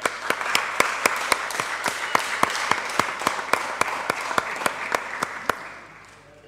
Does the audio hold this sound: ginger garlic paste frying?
no